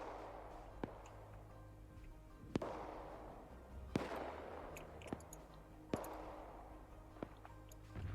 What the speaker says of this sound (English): I just heard something fire. That's probably Mi-24 cooking off.